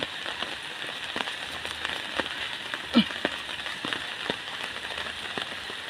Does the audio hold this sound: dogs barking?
no